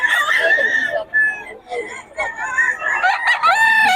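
A young rooster crows close by in a yard of fighting cocks, with repeated strained, harsh crowing calls over several seconds and other fowl sounds mixed in.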